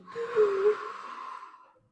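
A single long, soft exhalation from a woman during a breathing exercise, close and clear, trailing off over about two seconds with no talk.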